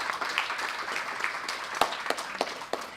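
An audience at a ceremony marking the Dalai Lama's 90th birth anniversary gives a round of applause for a speaker: a steady crowd patter with a few sharper, closer claps standing out near the end.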